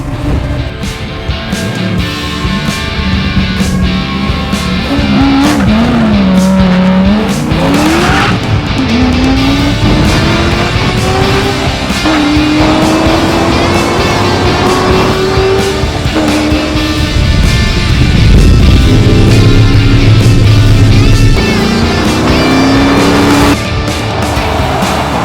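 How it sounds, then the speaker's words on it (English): A 2008 Corvette Z06 track car roars hard on a race circuit, its loud engine climbing and dropping through gear changes with repeated revving pulls, tire squeal and no speech. "So Brian Sexton came back today and brought his 2008 Corvette Z06 Project Track Attack."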